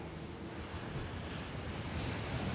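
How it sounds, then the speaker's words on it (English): Ocean waves surging over a rocky shore at Trunk Bay, a steady loud broadband wash of surf mixed with wind noise across the microphone, continuous with no talk. "Clearly the waves are even higher sometimes."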